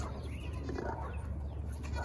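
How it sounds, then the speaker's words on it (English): Baby goats on a farm bleat for their mother, several close, overlapping cries over a steady murmur of background noise. "gather all of the baby goats in because they want their mommy"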